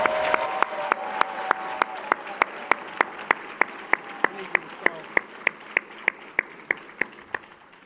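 Applause at a women's leadership awards event in St. Louis: a crowd claps for honorees alongside a run of sharp, evenly spaced claps, with faint talk in the background.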